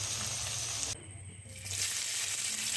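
Spiced chicken fries in a pan with chili powder and garam masala as it is stirred, a close, steady sizzle that dips briefly in the middle and then returns at full strength.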